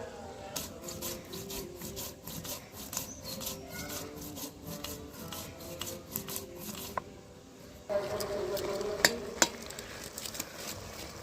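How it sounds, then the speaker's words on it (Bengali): Cumin seeds being ground into a paste, a close, rhythmic rubbing and scraping of stone on stone in quick repeated strokes, growing harsher and grittier toward the end. "জিরেটাকে আমি এখন বেটে নিচ্ছি"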